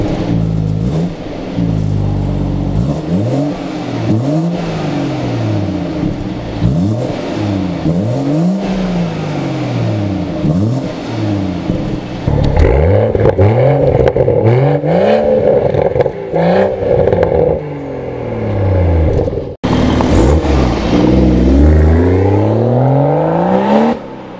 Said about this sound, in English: black BMW M140 in for a Remus with carbon tailpipes. Sounds so good.